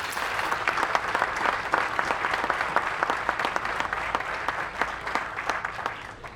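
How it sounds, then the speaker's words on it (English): An audience at a fundraising celebration claps for Ambassador and Mrs. Taubman, a dense, steady round of applause from many hands, sustained and fairly close throughout. "Can we give them a round of applause?"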